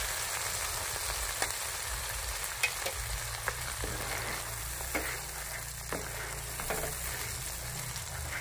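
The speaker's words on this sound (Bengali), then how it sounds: "এবারে আমি যে পেস্টটা তৈরি করেছিলাম মশলার, সেই মশলার পেস্টটা আমি দিয়ে দিচ্ছি" A blended spice paste fries in a pan for Bengali doi golda chingri, a soft, fairly quiet sizzle with scattered clicks and scrapes of stirring. No voices.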